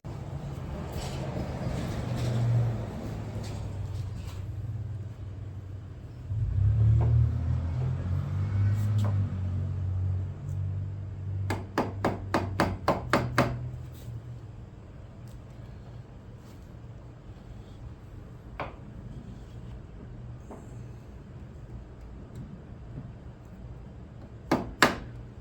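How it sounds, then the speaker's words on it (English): A quick series of sharp hammer taps on the back side window trim of a 1966-1967 Chevy Nova wagon rings out in a rapid burst, with a few more isolated knocks later over low engine-like rumble. "I can hammer this down just a little bit if I need to."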